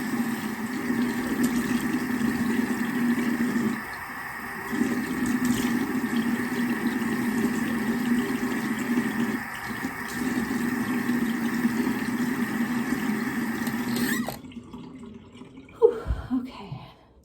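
Steady rushing running water from a tap while a face is being washed, continuous and close with small dips as hands move through the stream, then the flow cuts off and a few faint handling sounds follow.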